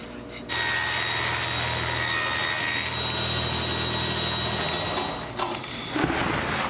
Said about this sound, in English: Now I need to start cutting shelves. What I'm using for that is half inch birch plywood.